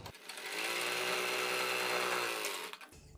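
An electric sewing machine runs one continuous stitching burst of about two and a half seconds along a placket neckline, a close, even whirring hum that starts and stops cleanly.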